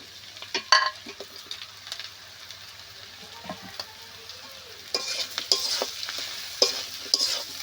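Eggplant pieces fry in oil in a pan for a fish-oil chorchori, a steady close sizzle broken by scraping spatula strokes that grow busier and louder toward the end.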